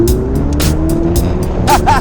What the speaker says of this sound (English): Let's hear a good exhaust note